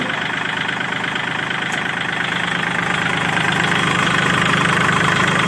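A used farm tractor's engine idles steadily close by, a loud, even, rhythmic chugging rumble that holds without change, with no talk over it.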